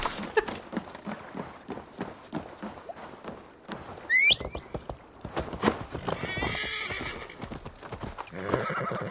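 Horse hooves clip-clop steadily at a walk in Assassin's Creed Valhalla, Wrath of the Druids, with a sharp rising whinny near the middle and some faint talk and game ambience around it.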